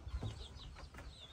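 Chickens cluck softly near a rural hut in a field where ducks are also kept, a few faint clucks and chirps over low background noise.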